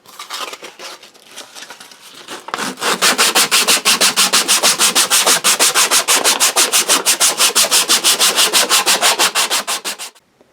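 Sandpaper works the wooden neck of a custom Les Paul guitar. After a few softer scuffs, fast and loud rhythmic back-and-forth rasps run steadily for several seconds and then stop abruptly.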